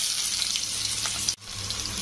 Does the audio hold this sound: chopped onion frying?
yes